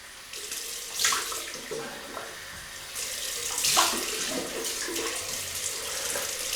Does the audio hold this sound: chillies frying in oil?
no